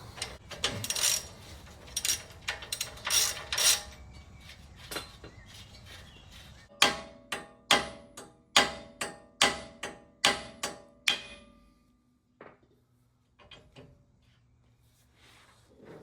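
A run of sharp metallic hammer taps on a Jeep Wrangler TJ tie rod end in the steering knuckle, several quick ones then evenly spaced louder strikes, ringing briefly, followed by quieter scattered clicks.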